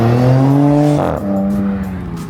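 A Dodge Charger engine drones loudly close by with steady harmonic tone, dropping in pitch as the car comes off throttle and brakes while passing, the note sagging and easing away.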